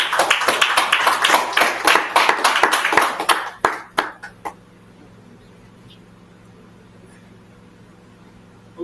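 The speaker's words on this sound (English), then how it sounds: "Please, a round of applause." Audience at a business summit applauding, dense clapping for about three seconds that thins into a few scattered claps and then stops, leaving a quiet hum.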